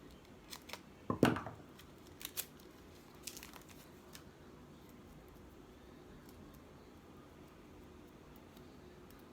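Scissors snip through a Dollar Tree paper file folder, cutting it in half with a few crisp close-up cuts early on, followed by quiet paper handling.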